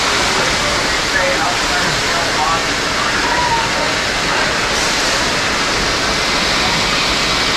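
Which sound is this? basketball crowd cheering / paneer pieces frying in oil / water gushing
water gushing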